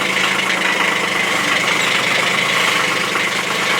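A motor grader's diesel engine idles in a steady, close, loud rumble that stays even throughout, with no voices over it.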